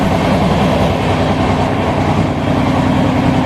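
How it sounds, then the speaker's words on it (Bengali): The Netaji Express, an Indian Railways passenger train, runs along the rails, a loud continuous rumble and rattle with a low drone throughout, heard from close by with no talking. "এটা কিন্তু ভারতীয় রেলওয়ের অন্যতম প্রাচীন ও ঐতিহাসিক ট্রেন"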